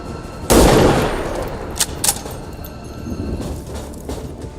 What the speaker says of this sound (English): I'm gonna shoot you.